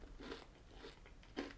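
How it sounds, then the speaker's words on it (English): Pretzel-filled M&Ms bitten and crunched close up, three distinct crisp crunching bursts spaced about half a second apart, quiet and alone with no talking. "Very, very nice crunch."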